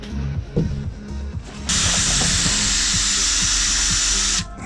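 A power drill spins up on a boat, whirring loudly and steadily for a few seconds before stopping, after some brief clunks and handling noises.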